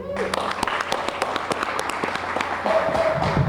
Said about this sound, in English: So a round of applause for all of them, please.